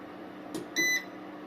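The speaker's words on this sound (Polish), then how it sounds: "Teraz włączam grzejnik" Electric heater switched on in an off-grid home running on a hybrid inverter without a battery, giving a soft click followed by a single short electronic beep over a low steady hum.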